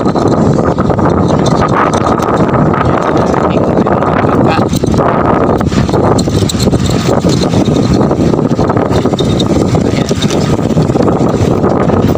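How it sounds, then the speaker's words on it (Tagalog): Strong monsoon wind batters the microphone while big waves crash along the shore, a loud continuous roar with gusty buffeting, and a person speaks throughout. "Ayan ang bangka ngayon, dito kapaglaot dahil malakas yung alon."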